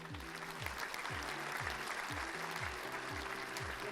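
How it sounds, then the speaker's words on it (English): An audience applauds the third-place team at a competition finale, steady clapping heard somewhat distant and faint beneath a looping musical beat. "let's give a round of applause to EcoLife for the 3rd place"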